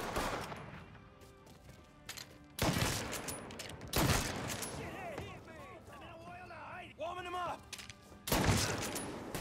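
Bursts of gunfire in the Mafia III video game, several loud volleys spaced a few seconds apart, with shouting and talk between them.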